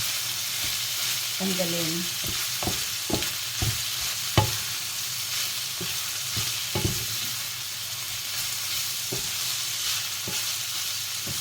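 Chicken empanada filling fries in oil in a pan, a steady close sizzle punctuated by sharp scraping clicks of a utensil stirring against the pan, with a brief spoken word partway through.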